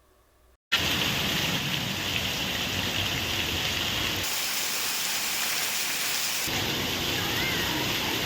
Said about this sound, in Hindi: आसमान में बादलों के साथ बारिश बरस रही है।